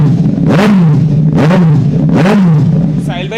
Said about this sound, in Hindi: एक बार एग्जॉस्ट मोड भी चेक करते हैं।